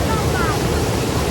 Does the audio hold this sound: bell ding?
no